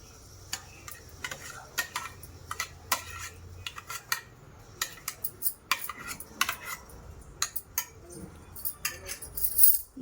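Mutton pieces being mixed with yogurt in a bowl for mutton methi masala, with repeated spoon clinks and scrapes against the bowl in an irregular rhythm, close and fairly quiet.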